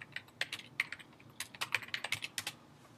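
Keys clack steadily on a computer keyboard during work in Google Docs, with quick uneven bursts of crisp taps, close and fairly soft, and no talking.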